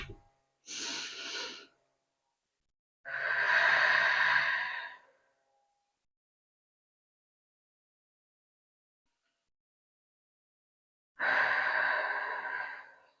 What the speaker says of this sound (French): on travaille les respirations. Vous voyez, je gonfle mon ventre et ensuite, je l'aplatis.